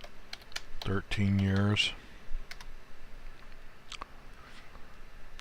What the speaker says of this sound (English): So if I just go to the beginning and I type in